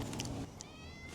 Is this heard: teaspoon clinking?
no